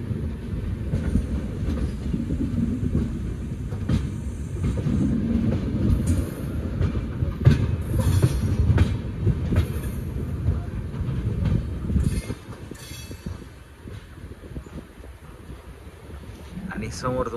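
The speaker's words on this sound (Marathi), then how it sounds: "या ठिकाणी तुम्हाला दिसत असेल हे WDP 4D डिझेल लोकोमोटिव्ह" A train hauled by a WDP 4D diesel locomotive runs on rails near Purna Junction, a loud continuous rumble with rhythmic clickety-clack of wheels that eases off toward the end, with someone talking over it.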